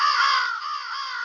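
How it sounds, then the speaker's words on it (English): A flock of crows overhead caw together in one steady, overlapping harsh chorus that carries on without a pause, loud and near. "Yep, see, those are crows. There's a bunch of them together."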